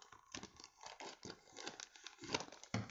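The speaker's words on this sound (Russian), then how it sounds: "Ну, давайте нарежем ножницами." Scissors cutting open a parcel of dragon figures, with irregular crinkling, tearing and snipping of packaging close up, crisp bursts coming in quick uneven succession.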